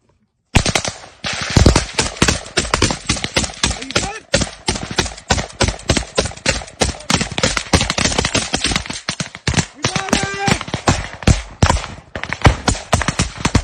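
Small arms gunfire in infantry combat in Ukraine, dense rapid cracks and bursts of rifle and machine-gun fire, loud and close, continuous throughout with scattered shouting voices.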